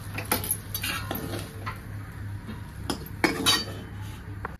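Fried eggs sprinkled with coriander are lifted from hot oil onto a plate, with metal utensils clinking and scraping against the pan and dish in short bursts over a low steady hum, with no one speaking.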